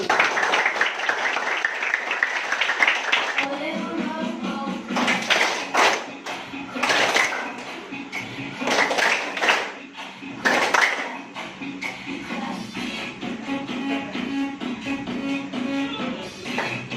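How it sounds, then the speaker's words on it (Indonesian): A class of teacher trainees claps in a classroom during an icebreaker, first as a dense burst and then as separate rhythmic rounds of clapping with brief pauses and some taps. "Tepuk tangan dulu."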